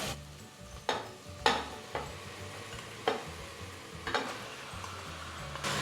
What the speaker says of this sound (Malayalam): ചിക്കൻ നമുക്ക് അതിലേക്ക് ഇടാം അല്ലേ?